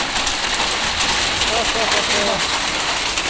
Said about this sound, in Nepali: एकदमै असिना परेर चाहिँ यहाँ देख्न सक्नुहुन्छ पुरा सेतो बनाइरहेको छ